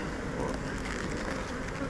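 Honey bees buzz around a honey-filled hive frame, a close, dense and continuous droning hum with no pauses.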